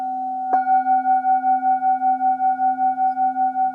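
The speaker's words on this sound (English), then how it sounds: "Let's say we hit once at this point and then at 45-degree angle." Tibetan singing bowl struck once with a mallet, giving a sharp strike followed by a long sustained ringing tone with steady, slow beating pulses, close and alone.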